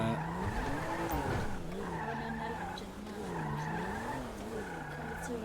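In the GTA V video game, a car drives and skids, with a continuous wavering tire squeal riding over a steady engine drone throughout.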